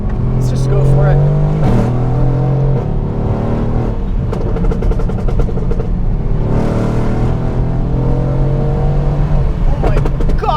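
Mercedes-AMG GT R fitted with downpipes and a Stage 1 tune accelerating hard, a loud, steady engine roar climbing through the revs from inside the car, with a brief gear-change dip and a voice talking over it.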